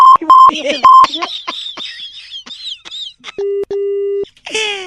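A burst of electronic beeps and chirpy tones, then two flat, steady tones signalling a phone call being disconnected, finishing with a brief squeal; no clear talk.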